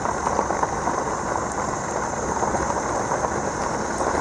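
Rain falling outdoors on a farm with planted trees, a steady dense patter and hiss that stays even and fairly loud throughout, with no voices.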